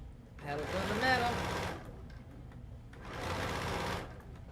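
A sewing machine stitches a quilt in two close, steady bursts of rapid mechanical chatter, the first longer, separated by a brief lull, with a voice speaking during the first run.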